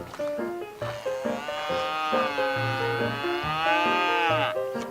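Calves in a cattle herd bleat and moo in a quick run of high, wavering calls, close and loud, with a deeper cow lowing underneath.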